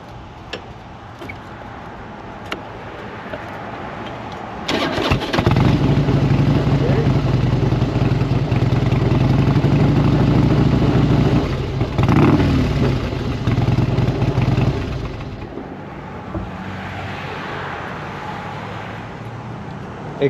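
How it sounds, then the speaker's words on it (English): Vehicle engine cranking and catching around five seconds in, then running at a loud rough idle for about ten seconds before dropping away, with people talking over it. "See how it sounds when you started it up."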